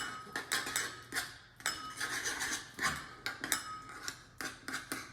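A spoon stirring a pinch of salt into Greek yogurt in a bowl, giving a run of close, irregular clinks and scrapes against the dish with short pauses between strokes.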